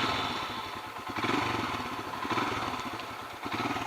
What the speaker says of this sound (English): So now let's start the bike and talk while riding.